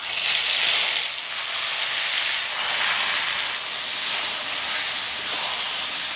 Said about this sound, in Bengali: আর একটু তেল দেবো কড়াইতে কচুটা ভাজা করার জন্য